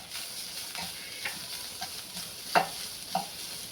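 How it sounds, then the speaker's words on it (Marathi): Chopped onion and coriander leaves being sautéed in a pan for a puffed-rice snack, a soft fry and hiss with scattered spoon scrapes and stirring knocks, fairly quiet, no talking. "याच्यामध्ये कोथिंबीर घालायची आहे कोथिंबीर थोडी चांगली परतून घ्यायची आहे"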